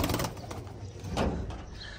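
Pigeons in a loft give soft, low cooing and faint bird calls over steady background noise, with no talking.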